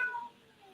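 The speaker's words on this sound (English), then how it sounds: "I hear a cat." A cat meows once, a brief and fairly faint cry that fades quickly into quiet room noise during an investigation at the Springfield Commercial Club.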